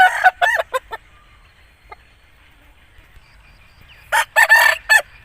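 An Aseel rooster crows loudly and close by, two bursts of crowing separated by a quiet pause with faint clucks.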